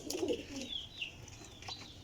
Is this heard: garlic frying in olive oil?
no